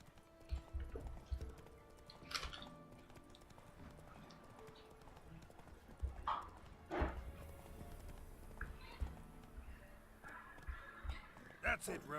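Roach, the horse in The Witcher 3, trots and gallops with steady clip-clopping hooves under game music and occasional voices, the hoofbeats loud in bursts and quieter between them.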